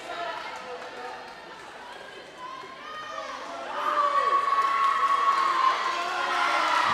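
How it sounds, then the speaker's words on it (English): Spectators cheer a swimmer during a high school swimming meet, a sustained crowd roar with whistles and shouts rising in intensity, under an announcer's commentary. "both teams are trying to cheer her on."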